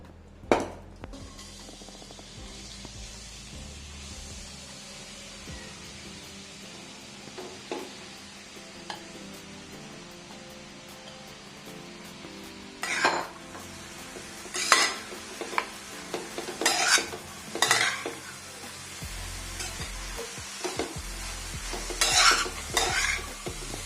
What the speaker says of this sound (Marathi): तुपामध्ये आपल्याला गाजर चांगले परतून घ्यायचे आहेत 10 ते 15 मिनिटे।